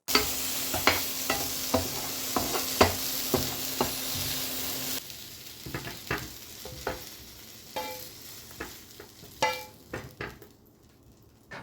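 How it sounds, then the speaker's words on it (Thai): Thai fermented pork sausage sizzling in a dry pan without oil, with repeated scraping and stirring taps at an irregular rhythm; the sizzle eases slightly partway through. "ผมทอดแบบไม่ใช้น้ำมันเลยนะครับทุกคนครับดูดิฮะ"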